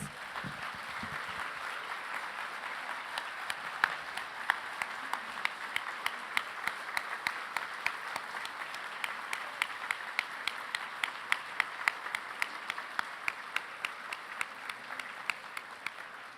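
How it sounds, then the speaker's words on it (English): A gala audience applauds 2019 Spirit of Aloha honorees in a large hall, sustained clapping with sharp individual claps standing out over a soft crowd wash, steady for the whole stretch. "Let's give them all one more big round of applause."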